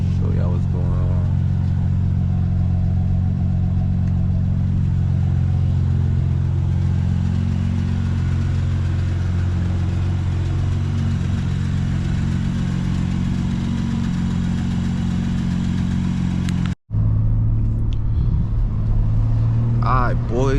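A BMW M2 engine drones steadily and loudly throughout a night drive, a deep low rumble with a brief cutout near the end before resuming; no distinct revving peaks stand out.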